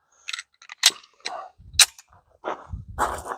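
A Canik Mete Prime pistol fired right-handed, several sharp, close cracks spaced irregularly among lighter clicks and handling noises, with no voice.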